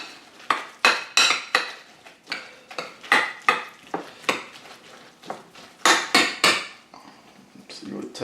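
A spoon clinks and scrapes against a bowl while seasoning with black pepper and salt is mixed for venison neck barbecue, giving a quick, irregular series of close, bright metallic taps and stirring scrapes.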